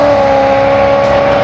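A fast car on a race track gives a loud, sustained high engine whine that holds steady at close range, with a brief swell near the end.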